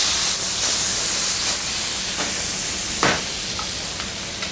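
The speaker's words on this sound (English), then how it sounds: "So right now we're just par cooking the shrimp" Shrimp par-cook in extra virgin olive oil in a preheated skillet, giving a loud continuous sizzle with occasional pops and crackles, close, with no talking.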